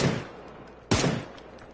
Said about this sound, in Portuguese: Deu um tiro, tá aqui na frente.